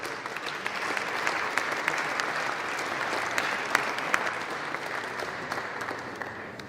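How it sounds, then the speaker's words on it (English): A room full of people at a CFA forecasting dinner in 2011 applauds steadily, a dense wash of clapping that holds at a fairly even level throughout. "So we'll just ask you for applause for them."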